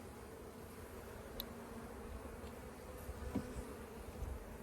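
Honey bees in an open hive split with sheets of brood give a steady, faint, close buzz that holds at an even level throughout.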